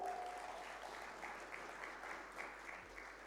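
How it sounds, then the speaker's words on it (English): An audience claps at a gathering for WWM-2019 after being urged to applaud, a faint, fairly even spread of clapping that keeps going across the whole stretch. "Give a clap."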